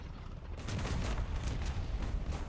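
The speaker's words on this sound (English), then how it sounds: "There's still a lot of shots happening at each other" Tank cannon fire between E-100 and Maus tanks in a video game rumbles as a dense, continuous barrage of booming shots and blasts, loud and overlapping with no clear gaps.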